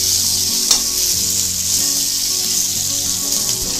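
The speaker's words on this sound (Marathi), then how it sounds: "आता हिरव्या मिरच्या सुद्धा आपण परतून घेऊया थोड्याशा कलर येईपर्यंत" Green chillies fry in a pan over low heat for Maharashtrian poha, giving a loud, steady close-up sizzle with a few light stirring knocks and no talk.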